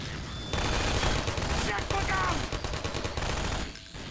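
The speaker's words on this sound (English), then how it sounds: "Keep shooting, boys." Gunfire fills a firefight in the video game Half-Life 2: Episode 2, a dense, loud fusillade of rapid shots running almost continuously, with voices speaking faintly in the mix.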